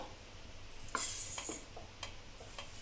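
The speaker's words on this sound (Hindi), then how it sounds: "इसको कुछ सेकंड्स तक भूनने पर मैं डाल दूंगी इसमें ये दलिया।" Black pepper and cardamom seeds dry-roasting in a pan produce a soft, faint sizzle with scattered light ticks and a brief scraping stir near the start, heard alone at low volume.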